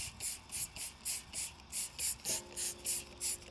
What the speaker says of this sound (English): So it's a simple case of just spraying it on.